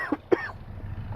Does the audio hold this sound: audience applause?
no